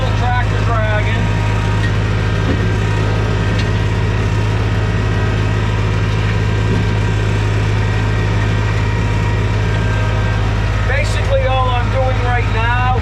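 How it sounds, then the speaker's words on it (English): A tractor engine labours steadily while scraping topsoil from grass for a road, a loud continuous low drone throughout with a couple of brief squealing scrapes. "And I can feel the tractor dragging."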